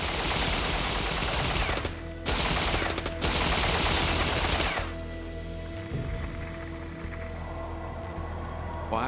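Guards opening fire on a man scaling the Berlin Wall, loud sustained bursts of gunfire with rapid machine-gun-like volleys that fade into a rumbling tail, no voices.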